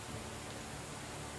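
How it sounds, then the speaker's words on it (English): Heavy rain pours steadily in the medieval survival game Medieval Dynasty, a dense, unbroken hiss that fills the whole scene with no voices over it. "this rain is super loud"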